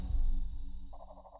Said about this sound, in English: the alpha packs make a weird sound when you do open them